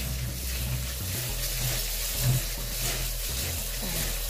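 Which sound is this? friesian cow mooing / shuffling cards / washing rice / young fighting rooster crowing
washing rice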